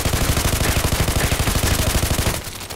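OTs-33 Pernach automatic pistol firing in the shooter game Contract Wars: a long, rapid, steady burst of loud shots at an even rhythm that stops abruptly near the end, with no talking.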